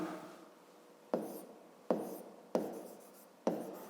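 Chalk or marker strokes on a board during a fifth-grade maths lesson land as five sharp, evenly spaced taps and scrapes, each fading quickly, close and fairly quiet.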